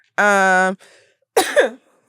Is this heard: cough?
yes